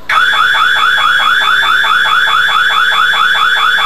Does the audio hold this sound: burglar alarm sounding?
yes